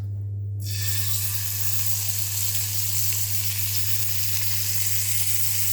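Paneer tikka fries on a hot tawa with a loud, steady hiss. The sizzle bursts in after a brief quieter moment and then holds close and continuous.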